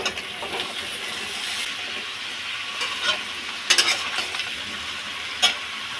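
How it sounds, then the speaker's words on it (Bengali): Jackfruit and potato stir-frying in a pan over fried onions, a steady soft sizzle with occasional louder clatters of stirring, close and without speech. "আমার পেঁয়াজ ভাজা হয়ে গেছে, এখন আমি ছেড়ে দেব কাঁঠাল"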